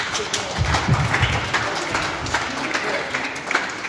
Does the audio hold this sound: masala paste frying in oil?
no